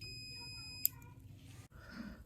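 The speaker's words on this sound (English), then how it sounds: "When I press the orange button, you hear the beeping sound, and there's continuity" A single short electronic continuity beep from a multimeter testing a microwave switch, clear and close, over a low steady background hum.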